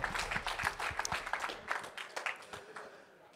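A burst of audience applause at an esports tournament final, dense clapping that starts strong and gradually thins out over a few seconds, with no voices on top.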